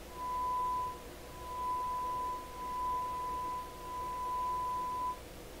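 A moderate shortwave signal on a Deforest Crosley radio: a steady thin tone rides over a noisy hiss of static, with the level gently swelling and fading in several slow waves.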